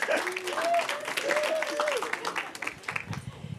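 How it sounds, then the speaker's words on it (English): Audience at an AI tech gathering in New York City applauding, a lively burst of many hands clapping that fades toward the end, with an excited voice and cheering rising over it early on. "Let's give a big round of applause."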